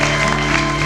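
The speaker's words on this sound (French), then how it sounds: "On peut l'accueillir par des acclamations" A church congregation at an evangelical jubilee service in Kisangani breaks into a short burst of applause, steady and fairly loud, with sustained musical tones running underneath.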